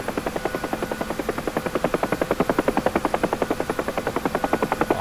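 Steady, rapid thudding of helicopter rotor blades over a whining engine in the flight simulator DCS, loud and close, with a constant rhythm and no talking.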